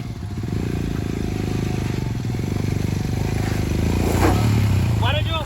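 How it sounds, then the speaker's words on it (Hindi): An off-road motorcycle engine labours loudly and steadily up a steep, difficult slope in Ratanmahal Wildlife Sanctuary, Gujarat, holding a sustained droning note close by, with a brief louder surge near the end. "आपको दिखाता हूँ कि जो दूसरे राइडर हैं वो कैसे बाइक को ऊपर चढ़ाते हैं"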